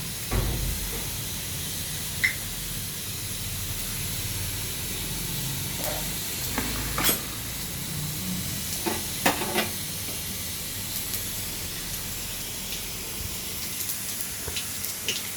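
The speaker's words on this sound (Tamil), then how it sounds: "இப்போ வந்து கடுகு கடுகு உளுந்தம்பருப்பை அடை சட்டியில் போட்டிருக்கோம்" Mustard seeds and urad dal fry in hot oil in an adai pan, giving a steady close sizzle with scattered small pops and crackles throughout and no talking.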